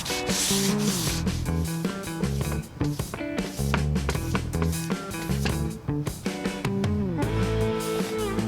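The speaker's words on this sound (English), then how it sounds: "Then a bit of a sander, paying particular attention to the grooves." An electric sander works over the grooves of a wooden bath panel with a steady, loud, continuous rubbing buzz, and tonal music plays throughout.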